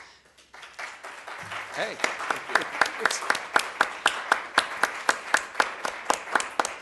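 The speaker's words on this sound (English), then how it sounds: "I hope we're applauding for everybody who participated" After an academic presentation, an audience settles into rhythmic, evenly spaced clapping in unison that grows steadily, with a brief spoken word at the start.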